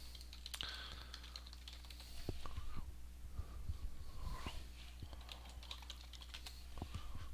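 Soft, quiet keystrokes tapping on a computer keyboard in short irregular bursts while a search is typed, with faint breathing in the background.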